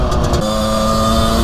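A motorcycle fitted with a full Leo Vince V6 exhaust line drones steadily at close range, a loud even engine tone holding one pitch after a brief rumbling start.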